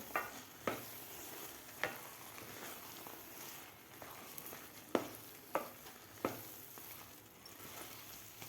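Pineapple sheera is stirred in a pan, with a soft continuous sizzle broken by several distinct scraping knocks of the spoon at irregular intervals, fairly quiet and without talk.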